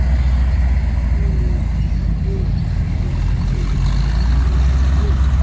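A WW2 American military truck rolls past in a 2023 parade of wartime vehicles at Capel, giving a steady, loud, low engine rumble that holds throughout without a break.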